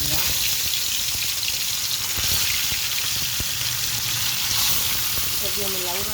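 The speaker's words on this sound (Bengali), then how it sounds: "মাছ ভাজবো, মাছটা একটু ভেজে নেই" Fish fries in hot oil with a loud, continuous crackling sizzle and occasional pops, and a brief voice surfaces faintly near the end.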